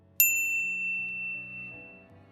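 A single bright notification-bell ding strikes sharply and rings out alone, its metallic tone decaying slowly over about two seconds against quiet background.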